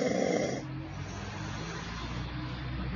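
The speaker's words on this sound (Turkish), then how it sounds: "Horluyorsun." A 42-year-old man suffering from sleep apnea snores, a loud rasping intake at the start giving way to steady, rough breathing noise close to the listener.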